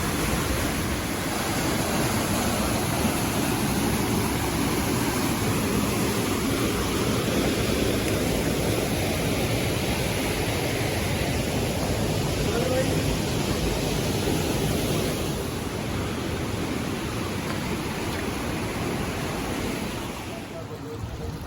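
Riva Waterfall in Solan, Himachal Pradesh, roars as a steady, loud, broadband rush of falling water heard from close by, continuous throughout and easing slightly at the end.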